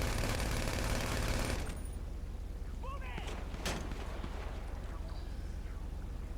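Machine gun fire in the video game mission The Titan Job: a dense roar of rapid shots at the start, then it fades to distant, sporadic bursts under a steady background rumble.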